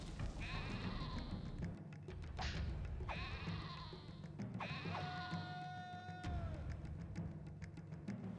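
Sheep in the Caesar 3 city-building video game bleat several times in short, wavering calls, spaced irregularly over a constant low background hum.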